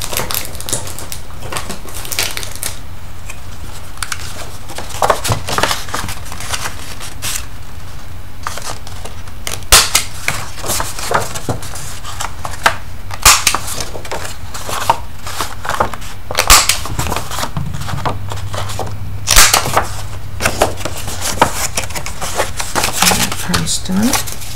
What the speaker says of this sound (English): I'm going to round my corners of my envelope